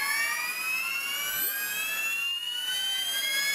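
RC helicopter with an electric motor and YEP/YGE ESC spooling up: a steady high-pitched whine with stacked harmonic tones that rise in pitch throughout, loud and close, with no voices.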